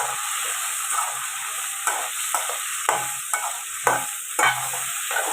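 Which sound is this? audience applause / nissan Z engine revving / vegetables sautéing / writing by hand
vegetables sautéing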